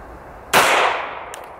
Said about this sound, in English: 9mm out of my Slovenian pistol. This is a full metal jacket. Let's see what it does.